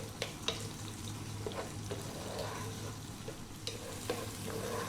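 Rice and rosemary cooking in a pot over high heat, with a steady frying sizzle and a few soft stirring knocks throughout, close and moderately loud, no talk.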